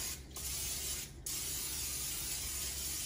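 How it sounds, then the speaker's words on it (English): An aerosol can sprays olive oil onto a lasagna baking dish in a steady, close hiss, briefly pausing twice before continuing in one long sustained burst. "I probably do not need to spray this with olive oil"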